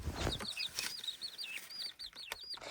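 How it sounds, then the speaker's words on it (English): Rapid high-pitched peeping of seven baby chicks, many short chirps overlapping continuously, close by with no talking. "Baby chickens."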